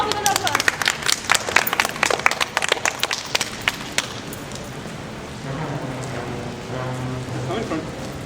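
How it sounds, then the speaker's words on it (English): An audience at a live comedy show claps in scattered, uneven bursts for the first few seconds, sharp and close, then fades out as voices begin speaking. "Let's start them off with an applause."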